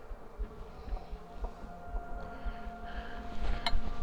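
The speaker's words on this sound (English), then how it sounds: "These are just worker bees working that." Worker honey bees buzzing at an open hive during an inspection, a soft steady drone with occasional louder passes of bees flying near.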